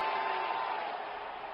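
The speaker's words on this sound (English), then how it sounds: "Crowd is going crazy." A cricket stadium crowd at an IPL match roars in a steady, dense wash of cheering that fills the whole moment and eases slightly toward the end.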